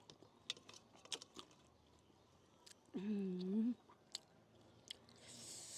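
Three young women eating rice by hand outdoors in a hill-forest setting make soft, close chewing and mouth sounds in scattered bursts, with a brief voiced exclamation midway and light clicks around them.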